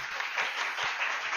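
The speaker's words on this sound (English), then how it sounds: "A big round of applause for the Dr." Faint applause from an audience welcoming a speaker at a girls' college event, a soft, distant wash of clapping at low level with no clear individual claps.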